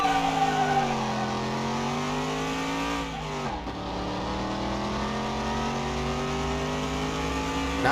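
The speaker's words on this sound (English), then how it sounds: "I'm going to rev it this time." A car engine in the video game Car Mechanic Simulator 21 revs, its tone climbing and falling across a steady, loud drone, with a sharp drop and recovery midway.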